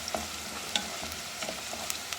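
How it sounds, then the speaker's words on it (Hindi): Garlic sizzling in a pan, a steady crackling fry with small pops and the occasional stir, moderately quiet and close, with no voices. "तो अब लहसुन को भी 1 मिनट हम भूनेंगे।"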